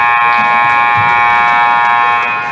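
An end-of-game buzzer at a North Greenville vs. Pensacola Christian men's college basketball game blares as one long, steady, loud tone over the faint rumble of the gym crowd.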